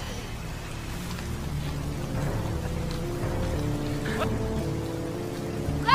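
Heavy rain falls at night in the mountain thriller High Lane (Vertige), a dense, steady hiss of drops with a low rumble beneath, continuous for the whole stretch.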